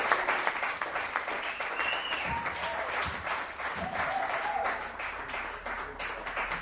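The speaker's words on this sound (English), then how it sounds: "Another round of applause for Kelly Shanley." Audience applause fills a comedy show in a dive bar, a steady dense clapping that holds for several seconds with scattered whoops and a little talk mixed in.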